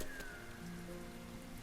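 Rain in the video game Sky: Children of the Light falls as a steady soft patter with faint tonal game music underneath, continuous and even throughout.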